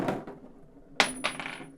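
Small metal screws spill from a chair box onto the floor: a faint rustle, then a sharp scatter of tinkling hits and a couple of smaller bounces, close and alone.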